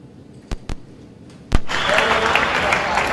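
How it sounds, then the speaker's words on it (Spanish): A few sharp isolated claps, then an audience at a theatre congress breaks into sustained, dense applause that holds steady and loud to the end. "Bueno, los aplausos."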